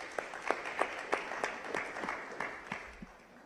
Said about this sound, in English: the fact that you are here deserves a round of applause